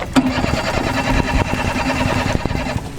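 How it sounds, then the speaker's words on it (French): A boat motor is being started out on the water during a cold, windy fishing trip: a choppy, sputtering engine rumble with knocks and clatter throughout, fairly loud and close. "Si le moteur veut bien partir."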